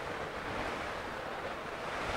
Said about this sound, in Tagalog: Kasi rumaragasa yung tubig dyan.